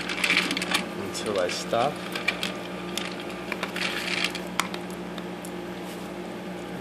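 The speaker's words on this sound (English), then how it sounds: "We'll start to dispense food" An automatic dog food feeder whirs and clicks as it dispenses kibble, with small rattles and brief mechanical bursts close by, and a person talking over parts of it.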